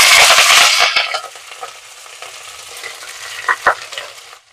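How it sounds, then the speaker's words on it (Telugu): Onion, green chili and garlic tipped together into a hot pan, giving a loud initial sizzle that settles into a steady frying hiss with a few stirring clinks, close by and with no voices. "తగ్గించేసి ఈ ఆనియన్, పచ్చిమిర్చి, వెల్లుల్లిపాయ అన్ని ఒకేసారి వేసేస్తున్నాం"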